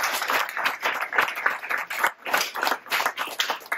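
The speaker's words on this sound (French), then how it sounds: "on peut l'applaudir" An audience at a gaming after-work event claps for a speaker, producing dense, steady applause from many hands that holds through the whole stretch at moderate, even loudness.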